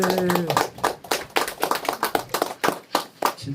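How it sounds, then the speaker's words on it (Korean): A church congregation claps to welcome the pastor, a burst of brisk, uneven handclaps that starts under a speaking voice and tapers into scattered claps over a few seconds. "오실 때 큰 박수로 환영해 주시기 바랍니다."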